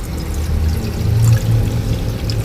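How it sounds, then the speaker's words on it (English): Water pours steadily into a pan, a continuous splashing trickle close by, with no voices. "I'll add this water"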